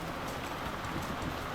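Rain falls in a faint, even hiss of steady drops, continuous and low in level, with no voices.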